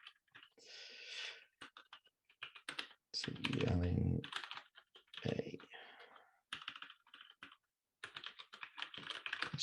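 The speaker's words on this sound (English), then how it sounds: "I do try to do a lot more touch typing recently" Touch typing on a computer keyboard: quick, close clicking keystrokes in uneven bursts and pauses, while a person speaks briefly over them.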